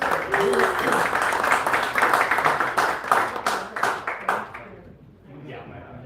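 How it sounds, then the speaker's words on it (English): A coffee shop audience applauding, steady clapping for several seconds that fades out near the end, with a voice heard faintly under it. "So a round of applause for the wonderful people."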